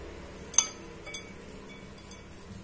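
Bajra (pearl millet) dough balls are set into a kadhai pan, making a couple of quiet, light metallic clinks over a faint background.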